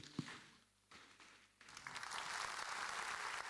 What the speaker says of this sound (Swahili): Tuwapigie makofi zaidi.